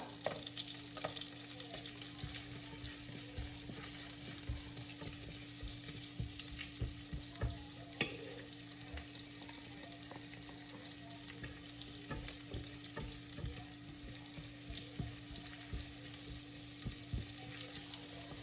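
Ginger sautés in a pan for goat adobo, producing a quiet, steady sizzle with frequent small crackles and stirring scrapes over a constant low hum.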